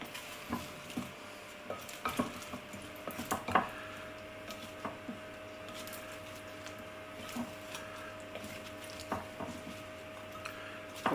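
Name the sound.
stirring roasted carrots and cauliflower with spices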